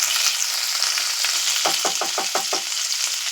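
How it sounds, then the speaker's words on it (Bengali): Curry leaves crackle and sizzle in hot white oil with whole cumin seeds, a steady hiss broken by a quick series of sharp crackling pops partway through. "কারি পাতাগুলো ফাটছে"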